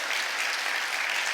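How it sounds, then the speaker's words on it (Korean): A church congregation at a Sunday service bursts into brief, steady applause, a dense wash of clapping heard alone without talk. "우리 앞에 나온 분들을 위해서 한번 힘있게 감사와 박수 하는 시간을 갖도록 하겠습니다"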